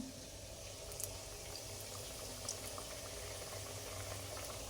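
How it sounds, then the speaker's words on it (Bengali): Food fries in hot oil in a home kitchen with a steady, even sizzling hiss that holds without pause throughout, and a few faint pops rise above it. "এদিকে আমাদের শিরা হচ্ছে আর এদিকে ভাজা শুরু হয়ে গেছে"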